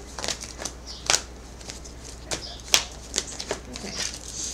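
Tarot cards are handled and shuffled close by, giving irregular riffles, flicks and snaps of card stock scattered across a few seconds, fairly soft overall with no talk over them.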